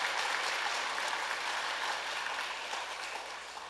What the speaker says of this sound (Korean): 우리 환영의 박수를 다시 한번 드리겠습니다.